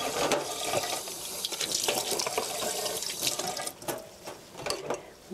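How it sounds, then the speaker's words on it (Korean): Tap water runs continuously over a block of tofu being washed in a sink, a close splashing flow with small drips and shifting gurgles as the hands move the tofu, no talking. "흐르는 물에 두부를 깨끗이 씻어주세요"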